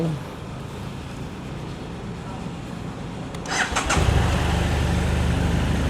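An adventure motorcycle, a successor to the F650 model, cranks and fires up, its engine catching after a few seconds of steady background hum and then settling into a close, even idle.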